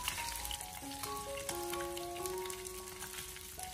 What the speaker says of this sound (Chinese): 最后将鱼块小火慢煎至两面金黄色就可以了